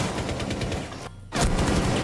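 Rapid automatic gunfire in the video game Rainbow Six Siege, loud and close, in a dense burst that cuts out briefly and then resumes at full intensity.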